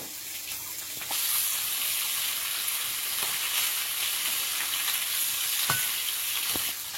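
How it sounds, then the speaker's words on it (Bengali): Small fish, seasoned with turmeric and salt, frying slowly in hot oil, giving a steady bright sizzle throughout with a few sharp pops and crackles, close and fairly loud. "সব মাছগুলো এইভাবে আস্তে আস্তে ভেজে নেব"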